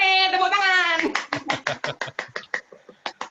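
At a relaxed radio talk show, a voice speaks briefly before about a dozen distinct, evenly spaced claps ring out close by in a steady rhythm.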